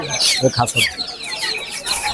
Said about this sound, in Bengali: ভাই এটা সোনালী মুরগি সোনালী মুরগি